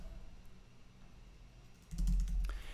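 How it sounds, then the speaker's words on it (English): Typing on a computer keyboard, a short quick run of close clicking keystrokes after a quiet pause, with a low thump under it, no voices. "I'm going to type in meeting notes."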